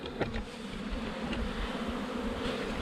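Honey bees swarm in a dense, steady buzz at an opened hive during a hive split and queen install, a close, continuous hum with a few louder passes as individual bees fly near.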